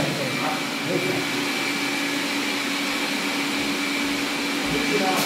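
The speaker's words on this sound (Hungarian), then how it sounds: "a két porszívó nem szeretik egymást." Two Xiaomi robot vacuum cleaners run continuously close by, a steady whirring motor hum with a broad airy hiss and no pauses.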